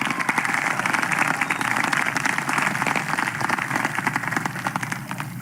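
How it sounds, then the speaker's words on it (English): Audience at a 2020 middle-high school graduation ceremony in Jacksonville, Florida, clapping in a dense sustained round of applause lasting several seconds, moderately loud and without talk. "Let's give her a round of applause for keeping us under control"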